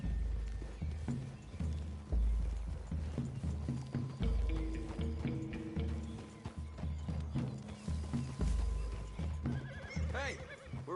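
Horses in the Red Dead Redemption II video game whinny and snort repeatedly while hooves clop in an uneven rhythm, fairly close, with a game voice talking over parts of it.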